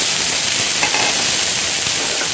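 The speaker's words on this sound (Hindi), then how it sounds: "इस तरह से डाल के इसको हम बराबर इसको चलाते हुए इसको भून लेना हुआ इस दाल को" Dal is stirred and roasted in an iron kadhai, giving a steady dry sizzle and hiss with faint scraping from the stirring throughout.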